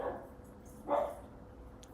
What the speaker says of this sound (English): my dogs are outside barking